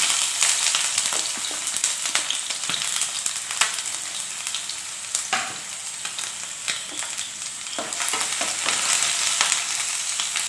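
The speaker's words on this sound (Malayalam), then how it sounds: "ഒരു ചെറിയ കഷ്ണം ഇഞ്ചി അരിഞ്ഞതും ഒരു പത്ത് വെളുത്തുള്ളിയും കൂടെ ചേർത്ത് കൊടുത്തൊന്ന് മൂപ്പിച്ചെടുക്കണം" Chopped ginger and about ten garlic cloves fry in oil for a Kerala-style pickle, giving a steady, close, bright sizzle with occasional scraping stir strokes throughout; no one speaks.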